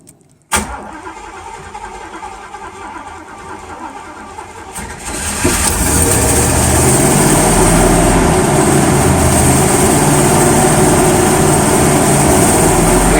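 A 1978 Chevrolet El Camino with carburetor vapor lock trouble cranks with a sharp start, churns unevenly for several seconds, then catches and settles into a loud, steady close-up idle.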